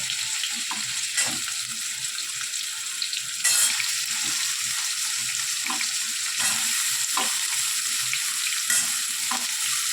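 Pumpkin and potato pieces fry in hot oil tempered with five-spice seeds, giving a close, continuous sizzle broken by repeated spoon scrapes and stirring knocks against the pan.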